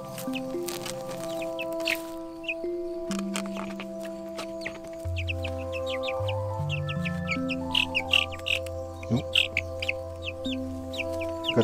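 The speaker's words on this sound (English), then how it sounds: "The hens are very curious," Hens on a Portugal farm cluck and murmur close by in short, repeated bursts, joined by chirping from young chicks, with steady background hum and no talking.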